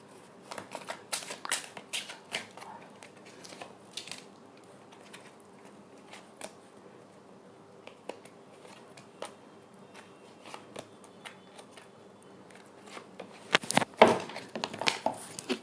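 Tarot cards shuffled by hand in a quiet room, a run of soft riffling flutters and crisp snaps, with a louder burst of rapid shuffling near the end.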